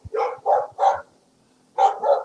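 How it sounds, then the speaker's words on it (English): Neighbor's dogs barking nearby, a quick burst of three sharp barks, a short pause, then two more. "These are my neighbor's dogs."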